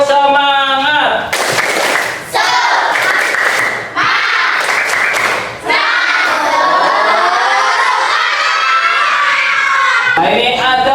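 Schoolchildren in a classroom perform the tepuk semangat clapping chant, loud rhythmic group clapping in several bursts with shouted chanting between short pauses.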